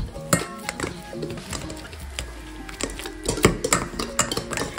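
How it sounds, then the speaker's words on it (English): A whole raw egg mashed and stirred in a bowl, with a run of clicking, scraping utensil strokes against the bowl at an irregular, busy rhythm, close and moderately loud, with no talking. "So one whole egg, okay. And mush it all up."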